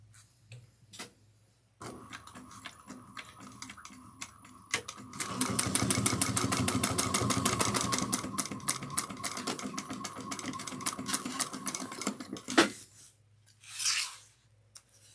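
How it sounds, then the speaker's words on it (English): Sewing machine stitching a lining onto fabric at a 3/8 inch seam: a short start, then a long fast run of rapid needle clatter, ending with a few quiet handling sounds. "we're going to sew this on using 3/8 of an inch"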